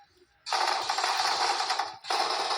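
Bursts of automatic gunfire in the mobile game PUBG Mobile, a long loud rapid-fire volley followed by a short pause and another burst.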